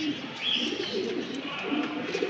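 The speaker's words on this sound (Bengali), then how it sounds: "কবুতরটা মোল্ডিংয়ে আছে, অসম কোয়ালিটির একটা কবুতর 2025 সালের" A racing pigeon coos softly nearby in a few low, rolling murmurs over faint background noise.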